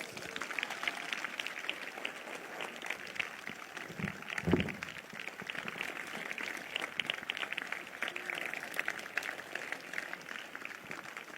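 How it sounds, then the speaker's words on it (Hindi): A congregation at a prophecy service claps in praise, sustained but faint and distant, with a brief low thump partway through. "तालियां नहीं रुकनी चाहिए।"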